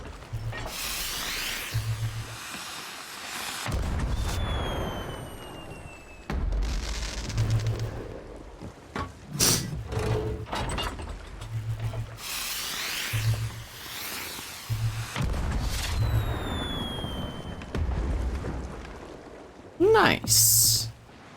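Fireworks in the pirate video game Sea of Thieves go off as a run of whooshing launches and crackling, booming bursts, repeated in waves with whistling rises between, while a player talks over them.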